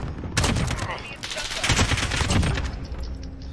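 Video-game gunfire in Call of Duty Modern Warfare sounds as a dense, loud burst of rapid shots and blasts that fills most of the moment, then fades out near the end.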